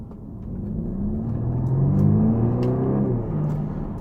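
A 2018 Audi A5 Sportback fitted with a 034 Motorsports intake accelerates moderately hard, heard from inside the cabin with the windows up as a steady low engine drone that rises in pitch and swells, then eases slightly.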